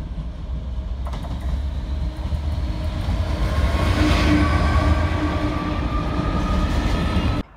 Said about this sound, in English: Back at Bury again for 66536, which is pulling through with another intermodal set.